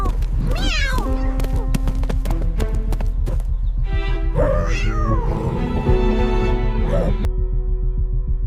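A cat meowing in a town at night, several drawn-out meows standing out over a loud, busy layer of other animal and background sounds.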